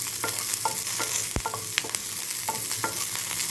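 Banana leaf pieces and spices fry in hot oil while being stirred, a steady close sizzle broken by several sharp scraping clicks of the spoon against the pan.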